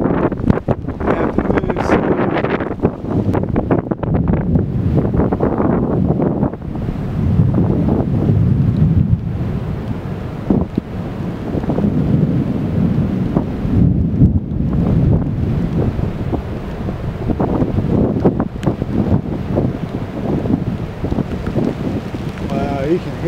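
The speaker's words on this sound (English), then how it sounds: "wind just whipping around in there." Strong wind whips and buffets around an outdoor storm scene during a tornado warning in Columbus, Kansas, a rough, continuous roar with gusty surges and heavy microphone buffeting throughout.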